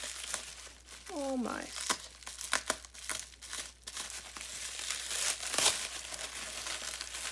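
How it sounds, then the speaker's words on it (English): Bubble wrap is cut open with a craft knife and unwrapped, giving close crinkling and rustling plastic sounds in irregular bursts, while a person speaks briefly over it. "Let's see what's inside this bubble wrap here."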